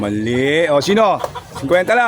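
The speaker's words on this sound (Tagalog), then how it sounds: "Ayan yung manok oh." A chicken clucks and calls in a drawn-out, wavering voice, close and fairly loud, with people talking over and around it.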